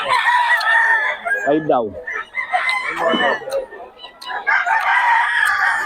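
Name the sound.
roosters crowing and clucking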